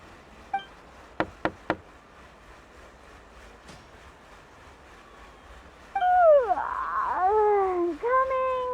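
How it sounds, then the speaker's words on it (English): Three quick raps on a wooden door in the video game Genshin Impact, sharp and close together, followed after a pause by louder synthetic game sounds and music-like tones. "I'll go knock on the door."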